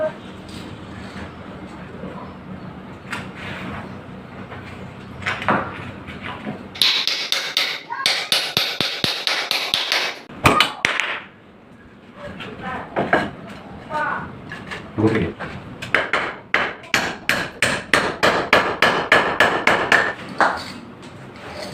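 Hammer blows drive nails into a wooden frame for a GRC shadow-line ceiling, coming as loud, close, rapid strikes in bursts. Someone speaks in the gaps, and a rooster and hens cluck in the background.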